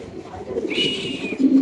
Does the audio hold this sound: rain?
no